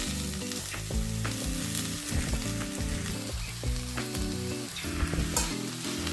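Squeezed sabsige (dill) greens with onion sizzle steadily in a hot pan, stirred with repeated scraping strokes, close and continuous with no talking.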